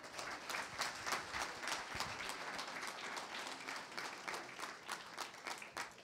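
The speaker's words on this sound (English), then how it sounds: "Let's give her a round of applause again." Faint, distant applause from a banquet crowd at a basketball awards show rises and falls in a sustained patter of many hands, heard alone without talk.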